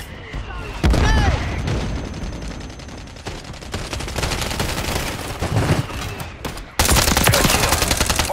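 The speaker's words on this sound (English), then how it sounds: "Mortar strike inbound now." A mortar strike in Call of Duty Warzone 3, a loud barrage of booming impacts and gunfire-like blasts with a sharp burst near the start and another heavy surge toward the end.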